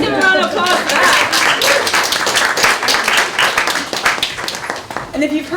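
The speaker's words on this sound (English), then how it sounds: "Let's give a round of applause for that." Audience at a community forum on mass incarceration in Vermont bursts into clapping between a speaker's lines, a close, fairly loud patter of many hands with voices heard at the start and end.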